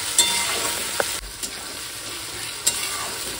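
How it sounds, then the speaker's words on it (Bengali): Onions sizzle in a pan with ginger, garlic, cumin and coriander, giving a loud, steady frying hiss broken by a few sharp clicks of stirring. "আধা পেঁয়াজ ভেজে নিই"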